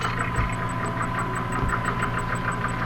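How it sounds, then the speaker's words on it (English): A steady mechanical whirring drone with a rapid rhythmic chugging and a high repeating beep as an item passes through the refining machine in SCP Containment Breach. "it makes a bunch of noise as it goes through the machine"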